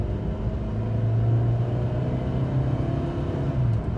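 A Volkswagen Beetle with a 2.0 engine and an automatic transmission driving through the gears, a loud, close, continuous low engine drone holding steady with slight rises in pitch, with no talking.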